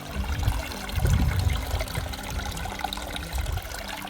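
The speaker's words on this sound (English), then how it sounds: "dripping water." A small stream of running water trickles and drips at a portage between two lakes in the woods, a steady close splashing flow with a few louder gurgling surges.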